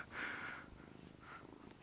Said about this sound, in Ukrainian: камеру полюбляють наші улюбленці, котики